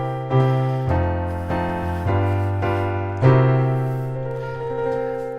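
Dominant seventh chords on a keyboard, struck one after another about six times in a slow, even rhythm, each ringing out and fading before the next, bluesy and jazzy in colour.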